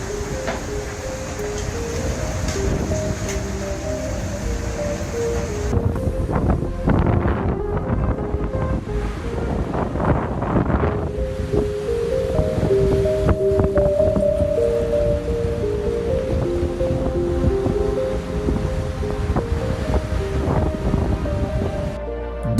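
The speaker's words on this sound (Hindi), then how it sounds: "समंदर में आने वाले एक खतरनाक तूफान के दौरान पैसिफिक ओशन का नज़ारा कुछ" Pacific Ocean waves in a dangerous storm, heard as a loud, steady roar of surf and wind, with gusts buffeting the microphone and a faint tonal hum running through it.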